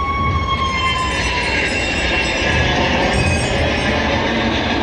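A continuous heavy rumble with metallic squealing and clattering wheels, loud and close, as a roller coaster car rolls past on its track at Disneyland Paris.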